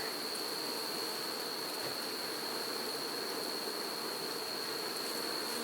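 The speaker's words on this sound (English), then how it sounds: "Just look at how many bees are up here." Honey bees swarm over a crowded hive box during a fall honey extraction, producing a constant, dense buzzing drone that fills the air without pause.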